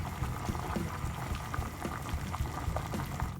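Salted water boils hard in a pot for spaghetti, a close, continuous bubbling and popping with a steady liquid roil and no voices.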